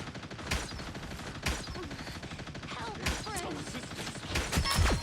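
Rapid gunfire from the Punisher's mounted turret in the Marvel Rivals video game, loud bursts of shots with sharp impacts standing out over a busy mix of game effects.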